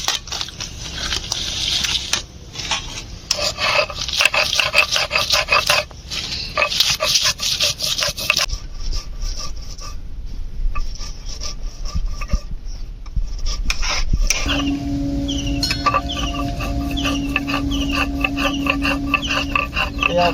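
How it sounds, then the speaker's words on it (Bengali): Dried red chilli being ground on a grinding stone, a steady close rasping and rubbing back and forth that continues throughout, with a brief pause midway. "এই শুকনো লঙ্কাটাই বেটে নেবো"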